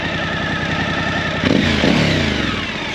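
Suzuki V-Strom 1050 with a Mivv Speed Edge exhaust, baffle fitted, rumbling steadily nearby before two sharp throttle blips lift it into a louder, rasping rev that settles back down.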